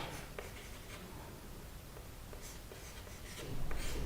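Chalk or marker scratching across a board during a Hindi physics lecture on one-dimensional collisions, a steady run of faint scrapes and taps with a slightly louder stroke near the end, no voice.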